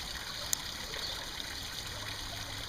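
Water trickling and splashing steadily over a new backyard pond waterfall, a soft continuous stream sound with a faint background hum and no talk.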